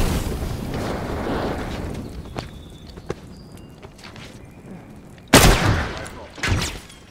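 Frontier rifle fire in The Last of Us multiplayer, with a steady rumble of battle, a couple of faint sharp cracks, then two loud booming shots near the end, under quiet combat noise.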